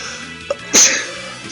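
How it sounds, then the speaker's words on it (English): A single sharp human sneeze, close and loud, preceded by a brief small intake sound and then a quick burst against faint background game music. "Sorry about the sneezing."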